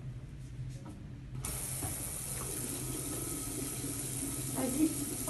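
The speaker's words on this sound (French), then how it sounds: "Tu ouvres bien le robinet avec ton coude." Water runs steadily from a school sink tap after a child pushes it open with an elbow, a continuous close splashing flow that starts abruptly and carries on to the end.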